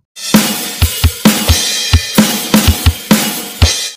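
A drum kit plays a steady beat pattern of deep kick thumps and sharp snare cracks, loud and close, for about four seconds.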